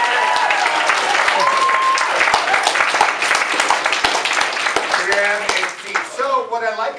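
Audience applause at a voice acting workshop at an anime convention, a steady wash of clapping from a room of people with laughter and voices mixed in, a whistle-like tone early and chattering voices near the end.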